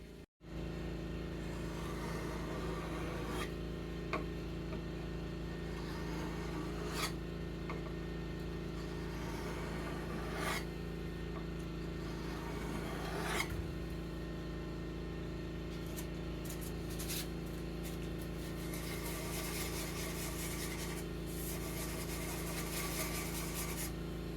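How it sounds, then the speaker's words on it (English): Steel knife blade forged from a railroad spike being worked on a sharpening stone, occasional sharp rasping strokes spaced seconds apart over a constant low mechanical hum, with denser scraping near the end, no speech. "next we're going to put it on a sharpening stone"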